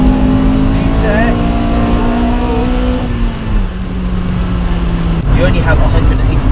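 A Honda Civic Type R EK9 with a Mugen twin-loop exhaust drones steadily at high revs, the engine pitch shifting as it drives, loud and close throughout.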